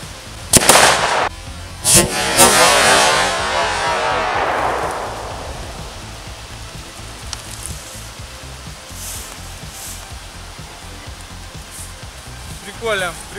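A ZEUS OMS-5P firework fires with a few sharp bursts, then hisses and sizzles loudly as it burns out, fading over several seconds, with faint crackles and a final brief crackle at the end.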